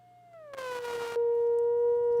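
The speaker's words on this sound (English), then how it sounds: "It's a very cheap theremin." A cheap theremin plays a wavering electronic tone that slides downward and then holds a steady, loud, pure pitch with a brief buzzy burst in the middle, close and with no speech.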